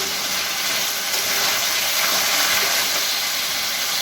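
Hot water poured into a pan of cooked spiced chicken, a loud, continuous broad hiss and steamy sizzle that swells slightly midway and stays steady and close, with no talking.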